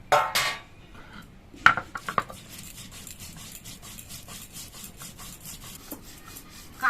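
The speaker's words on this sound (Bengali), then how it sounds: "নারকেলটা আমি মিহি করে বেটে নিয়েছি" Grated coconut being ground finely into a paste on a stone, rough rubbing and scraping strokes with a few sharp knocks, quiet and close, no talking.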